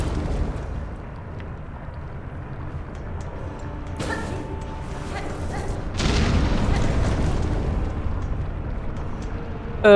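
Deep rumbling booms of explosions in the game Silksong, one rolling blast near the middle and a stronger sustained one later, over low steady game noise, with nobody talking.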